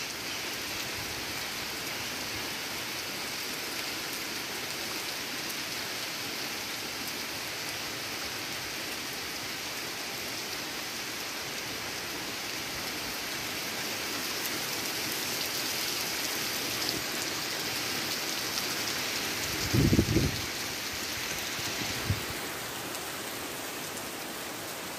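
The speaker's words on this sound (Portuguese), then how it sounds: "Chuva com sol." Steady rain falls on a grassy lawn in sunshine, a continuous even hiss throughout, with a couple of brief low thumps near the end.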